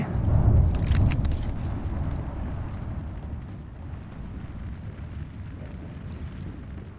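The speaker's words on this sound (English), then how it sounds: "Thermite grenade!" A thermite grenade in Apex Legends bursts with a heavy low rumble, then settles into a steady roaring burn that fades slightly and keeps going, loud and close.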